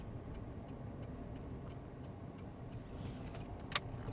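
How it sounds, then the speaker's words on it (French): Car turn signal indicator ticking at a steady rhythm, about a dozen even clicks under a low engine hum, with one sharper knock near the end; no talk. "Là, je mets mon clignotant"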